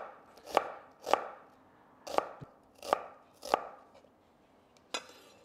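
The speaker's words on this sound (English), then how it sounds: "we're going to add 1/2 small red onion and just very, very finely sliced" Half a small red onion is sliced very finely with a knife on a board, producing six sharp, evenly spaced chops close by in an otherwise quiet kitchen.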